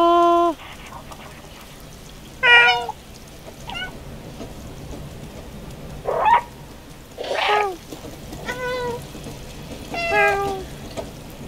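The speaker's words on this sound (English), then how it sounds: "Best part about this game, I can meow incessantly." A cat meows repeatedly in the video game Stray: about six clear, tonal meows come at irregular intervals, close and prominent over a quiet, low background hum.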